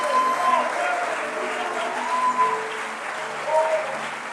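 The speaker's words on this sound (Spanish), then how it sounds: "Pero aplaude así como que tienes fe." A church congregation applauding, a dense continuous wash of clapping from many hands that keeps going throughout, with voices audible within it.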